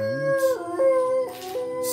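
A person imitates a wolf howl, a rising then sustained wavering tone with a few pitch breaks, loud and close with no other talk.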